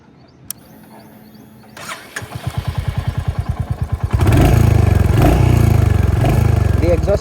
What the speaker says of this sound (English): So let's turn on the ignition.